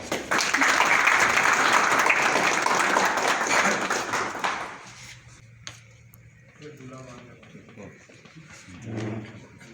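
At a Rasme Ustad-e-Shagirdi ceremony, an audience claps loudly to welcome an ustad to the stage, dense applause for over four seconds that cuts off, followed by someone speaking into a microphone.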